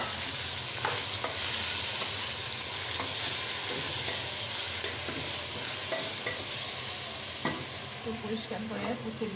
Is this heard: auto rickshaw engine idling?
no